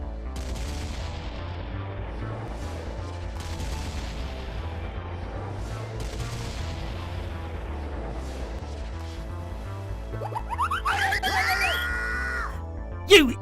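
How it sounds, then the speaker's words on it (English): Pirates on a ship firing guns at Peter Pan in an animated fairy tale, a run of repeated booming shots over a low rhythmic music bed, ending with a shout and sharp effects. "Everyone ran around the ship, firing, trying to shoot Peter Pan."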